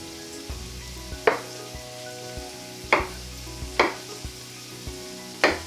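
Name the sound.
vegetables sautéing in a pan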